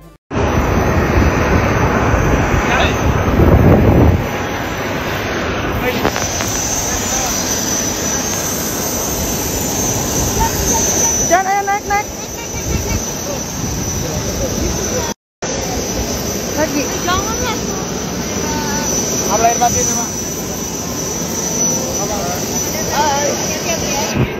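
Private jet engine roaring in a steady, loud whine that fills the scene from start to finish, with brief surges and faint voices and clatter mixed in.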